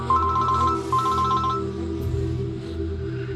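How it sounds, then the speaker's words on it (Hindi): A phone ringtone rings indoors with a repeating electronic melody in two short bursts, loud and close, with a low background drone underneath. "ये जवेद अमान फोन कर रहा है।"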